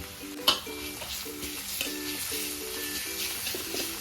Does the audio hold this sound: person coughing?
no